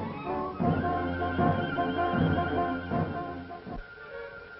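A horse in an old 1940s Western film neighs and whinnies loudly in a long, shaky call with repeated pulses, fading out near the end, with no voices over it.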